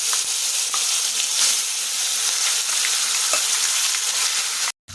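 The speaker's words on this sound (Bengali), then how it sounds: "ফোড়নটা ভাজা হয়ে গেলে এর মধ্যে টমেটো, আদা, কাঁচা লঙ্কার পেস্টটা দিয়ে দিচ্ছি" Tomato, ginger and green chilli paste hits hot tempering oil, giving a loud, dense, continuous sizzle that cuts out abruptly for a moment near the end.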